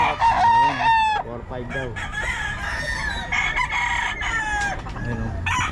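Golden Boy and Sweater gamefowl roosters from Pampanga crow repeatedly, several loud nearby cock-a-doodle-doos overlapping with clucks while someone talks over them.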